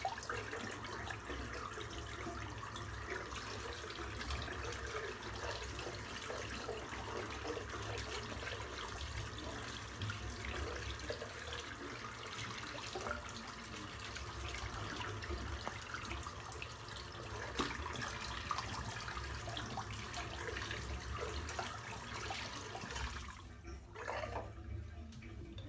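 A bathroom tap runs steadily for about 23 seconds, rinsing menthol shaving soap from the sink, the broadband hiss fairly close and even, then cutting off abruptly near the end.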